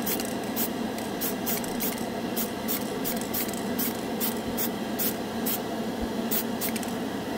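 Aerosol cans of chrome spray paint hiss steadily and continuously up close, with faint scraping and tapping ticks scattered over the spray.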